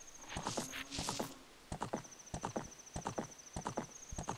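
Horse riding in the video game Zelda: Ocarina of Time gives rapid, rhythmic galloping hoofbeats with a whinny near the start, set against thin, sustained high game tones; it is fairly quiet overall.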